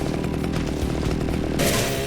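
Chainsaw roaring continuously in the 2010 video game Splatterhouse, a dense buzzing engine drone that briefly surges louder near the end.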